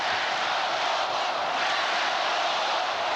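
A large arena crowd chants steadily at a 1993 NBA Finals basketball game between the Phoenix Suns and Chicago Bulls, a loud, dense and continuous roar with no pauses.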